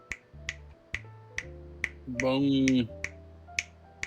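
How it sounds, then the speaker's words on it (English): Close-miked finger snaps click out at a steady pace, about two per second, sharp and crisp, with a brief spoken word breaking in partway through. "Can you guys hear me snapping my fingers?"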